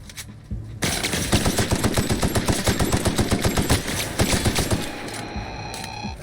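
Automatic gunfire in The Outer Worlds at a geothermal facility: a loud, close, rapid stream of shots that runs for several seconds without pause, then cuts off into a quieter rattling tail.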